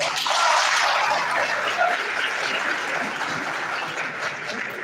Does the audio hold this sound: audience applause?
yes